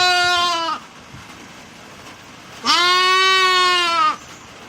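Sheep in a pen eating lucerne, two loud, close bleats separated by a short pause, the second longer and wavering.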